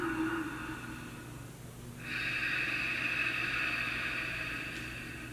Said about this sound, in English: we're going to try Ujjayi breathing on the way in and on the way out